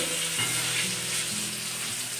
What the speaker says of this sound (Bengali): এখানে বেগুন ভাজছি, বেগুন ভাজা প্রায় শেষের দিকে।